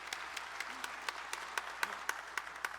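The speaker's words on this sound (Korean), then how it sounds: "우리 한번 박수 쳐드리겠습니다." An audience at an evening prayer meeting for pastors and elders applauds to welcome a speaker. The clapping is soft and steady, with a few sharper claps standing out from a distant, even patter.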